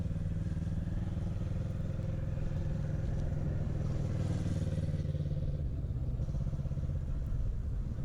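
A motorcycle engine drones steadily throughout, a continuous low rumble with slight shifts in pitch as it keeps moving, riding around a 40-foot circle.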